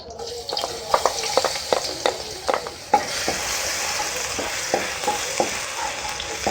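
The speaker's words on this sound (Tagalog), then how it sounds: "Kasi magigisa na tayo para sa ating chicken curry." Garlic sautéing in oil for chicken curry, a steady close sizzle with repeated clacks of a utensil stirring the pan.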